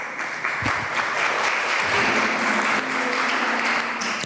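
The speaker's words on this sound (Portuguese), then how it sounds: "as palmas louvam o Senhor Jesus" A church congregation claps steadily together in praise, a dense, loud wash of applause that carries on without a break.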